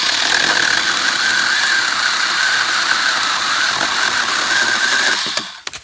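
Battery-powered Alloyman mini chainsaw cutting through a 3-inch pine limb, a loud steady high buzzing whine held for about five seconds with the motor bearing down, then cutting off abruptly near the end.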